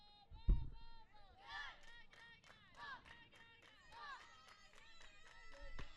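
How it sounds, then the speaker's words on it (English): Spectators at a high school softball game clap together in a steady rhythm, soft and somewhat distant, while people talk and chatter over it. "they're doing the clapping"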